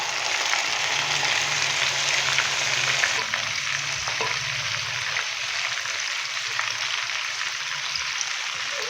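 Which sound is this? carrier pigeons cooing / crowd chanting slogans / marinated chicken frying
marinated chicken frying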